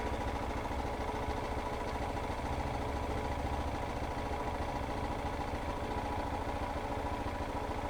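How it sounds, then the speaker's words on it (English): A KTM motorcycle engine idles steadily in the foreground, a constant low rumble with a fine regular pulse that holds unchanged throughout, with no talking over it. "we gotta have the bike running"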